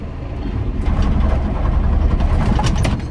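A heavy tractor engine runs with a deep, steady rumble close by, its labored tone suggesting it is taking on load as the PTO engages.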